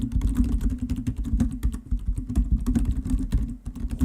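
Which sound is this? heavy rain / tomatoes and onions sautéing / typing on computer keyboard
typing on computer keyboard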